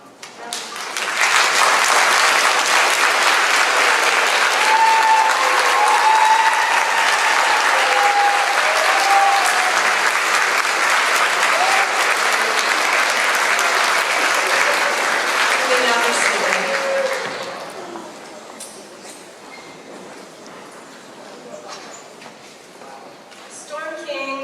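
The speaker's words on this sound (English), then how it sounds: "I would like you to thank those who have supported you most, your families, friends, and teachers, with your applause" Commencement crowd applauds families, friends and teachers, a loud, continuous roar of clapping with voices underneath that holds for about seventeen seconds, then tapers off to scattered claps and room noise.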